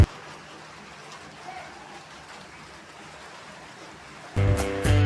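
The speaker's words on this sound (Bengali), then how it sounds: "আমার বলতে না বলতে বৃষ্টি এসে হাজির" Light rain starting to fall makes a soft, even hiss for about four seconds before a louder, tonal sound abruptly cuts in near the end.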